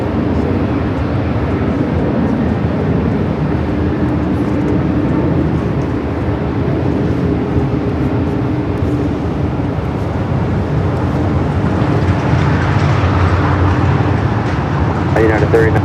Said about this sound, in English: this flight headed to Tokyo Narita, heading down the 24 left for a north side takeoff